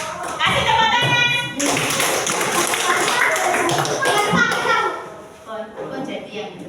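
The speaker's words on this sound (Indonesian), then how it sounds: "Kasih tepuk tangan" Children in an Indonesian classroom clap their hands together in a lively burst that sets in after a moment and carries on steadily, dense and close, with kids' voices and a teacher talking over it.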